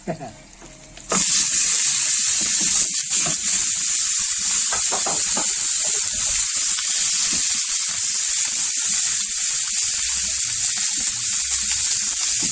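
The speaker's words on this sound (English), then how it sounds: "now just going to throw it in the skillet if it fits" A thick aged steak sizzles loudly and steadily in a hot skillet, the searing hiss starting abruptly after a brief quieter moment and holding close and constant throughout.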